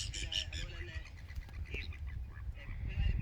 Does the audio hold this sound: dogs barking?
no